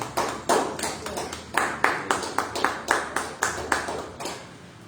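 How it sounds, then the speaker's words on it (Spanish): Rhythmic clapping from a congregation applauding Jesus Christ at a church service, steady even claps close by, about three per second, with faint voices underneath. "Den un aplauso a Jesucristo"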